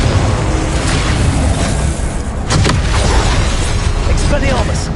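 Confringo blasting-spell explosions from Hogwarts Legacy, heard as booming bursts over a continuous loud game-combat din, with a voice talking throughout.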